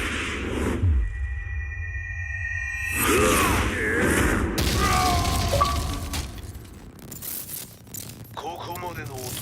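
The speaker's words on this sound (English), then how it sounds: "Explosion confirmed at the Mishima dojo." An explosion hits the Mishima dojo in the Tekken 7 story mode on Xbox One. Crashing and whooshing bursts mix with tonal game music and a swelling rumble, with voices speaking over it.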